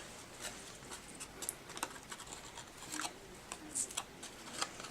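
Scissors trim the tails of a ribbon bow in a series of quiet, close, crisp snips at an uneven pace.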